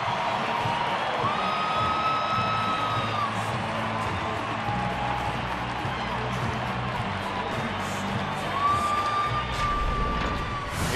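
A baseball stadium crowd at a Mets at Rockies game cheers steadily at a moderate distance, with a sustained roar and scattered whoops and whistles rising briefly over it, and a murmured commentator voice underneath.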